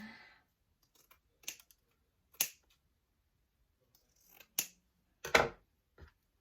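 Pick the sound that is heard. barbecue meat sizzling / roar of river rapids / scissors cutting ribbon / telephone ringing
scissors cutting ribbon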